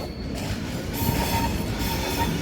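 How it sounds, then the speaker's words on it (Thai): Trains roll through a large railway station in Zurich at night, a continuous rumble of wheels on track with faint squeals and clicks, loud and close with no talk. "รถไฟเต็มไปหมดเลยค่ะ เห็นไหมคะ เป็นสถานีรถไฟในตัวซูริกค่ะ"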